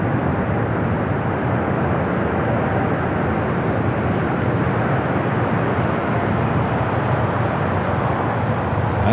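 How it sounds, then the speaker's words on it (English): A DHL Atlas Air Boeing 747-8 freighter arriving at LAX, its broad jet roar filling the air loudly and steadily, a continuous rushing wash of engine noise with no talk. "This is DHL Atlas Air Flight 648. Coming up from Anchorage, the 747-8 freighter next arrival here on the south side."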